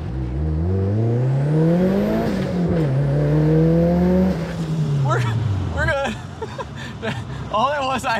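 A boosted launch in a turbocharged Mitsubishi Eclipse GSX with 240,000 miles, heard from inside: the engine revs and climbs through several gears with rising whine, then backs off as people talk over the end.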